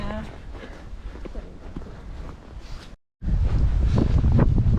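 Wind gusting across an open heathland hilltop along a walking trail, a steady broadband rush buffeting the microphone, cutting out briefly for a moment before returning louder and rougher.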